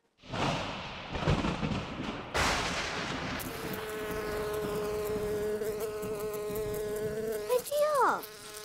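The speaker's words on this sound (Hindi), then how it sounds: "ये बादलों में से भिनभिनाने का आवाज कैसे आ रहा है?" Loud, close insect buzzing drones steadily for several seconds, its whining pitch wavering, then briefly swooping up and down near the end.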